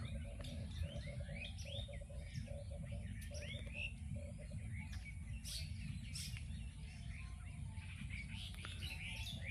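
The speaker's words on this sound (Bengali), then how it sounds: "শুধু পাখির কলরব পাখিতে ডাকাডাকি করতেছে" Birds, including mynas, call across open village fields in the morning with scattered chirps and short sweeping whistles, fairly distant and soft, over a constant low rumble of wind or ambient noise.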